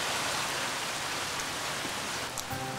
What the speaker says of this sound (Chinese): 出面好大雨啊！